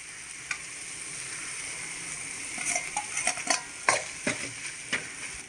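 Ingredients for a sardine fish curry sizzle steadily as they are sautéed in a pan, with a spoon scraping and clinking against the metal in quick bursts during the second half.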